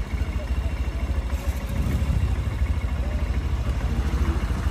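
A motorcycle engine runs steadily nearby with a low, pulsing throb and some clatter, and voices can be heard talking over it.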